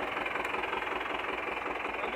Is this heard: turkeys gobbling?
no